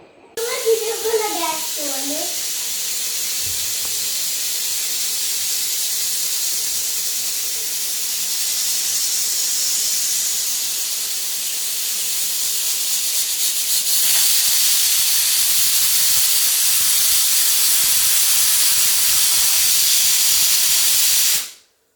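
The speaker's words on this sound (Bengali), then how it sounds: "এই যে প্রেসার কুকারে দিচ্ছি, সিদ্ধ করব তাই।" A pressure cooker boiling lentils with turmeric and salt for torka releases a long, loud, steady steam hiss that swells louder partway through before cutting off abruptly, with a brief burst of voices near the start.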